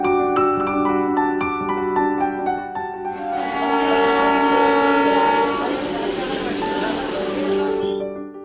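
A Darjeeling Himalayan Railway toy train on narrow two-foot gauge track sounds a long, loud, steady horn with broad rumbling running noise that swells in partway through and stays close and loud.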